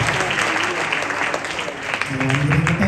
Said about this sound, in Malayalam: ഒരിക്കൽ കൂടെ കൈയടിച്ചൊന്ന് പ്രോത്സാഹിപ്പിച്ചാട്ടെ.